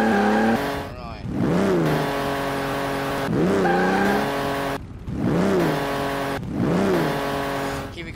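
An Austin Healey 3000 MKIII driven in Garry's Mod, its engine revving up and dropping through repeated gear changes in a loud rising-and-falling cycle, with tire squeal and a voice talking over it.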